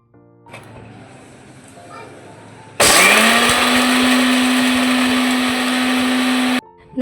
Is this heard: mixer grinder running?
yes